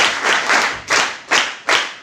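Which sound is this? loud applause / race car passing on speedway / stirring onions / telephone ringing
loud applause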